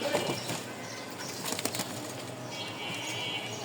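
A pigeon released from a hand beats its wings in a short burst of flapping, close and moderately loud over a quiet room, with faint cooing nearby.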